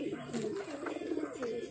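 Racing pigeons at a loft in Gerona, Tarlac coo continuously during training, with several birds' low rolling calls overlapping close by in a steady, unbroken murmur.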